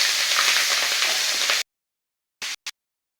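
Green chillies and chopped onion fry in hot oil with bay leaves and five-spice panch phoron, a loud, close, steady sizzle for about a second and a half that cuts off abruptly, followed by two brief sizzling bursts.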